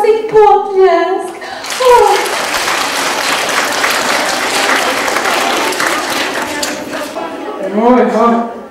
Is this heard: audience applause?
yes